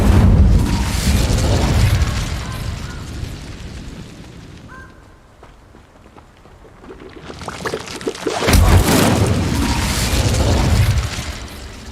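The Incendio fire spell cast in Hogwarts Legacy, a loud whooshing, roaring burst of flame that fades into a quieter stretch and then swells into a second heavy, booming rush.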